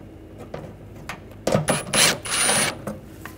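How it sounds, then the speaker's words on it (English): An 8mm socket on a ratchet works loose two screws on a 2009-2013 BMW 328i, with short dry clicks and a couple of louder ratcheting bursts near the end, close up. "Using a 8mm socket, take these two screws out"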